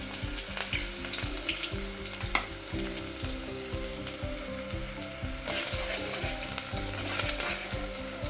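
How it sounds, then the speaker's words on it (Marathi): Chopped onion sizzles and fries in hot oil in a cooking pot, with a steady crackle broken by repeated clinks and scrapes of stirring, no talking. "कांदा व्यवस्थित परतून घ्यायचा आहे."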